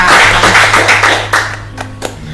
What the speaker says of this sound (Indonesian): Kita tepuk tangan dulu dong buat Bapak kita.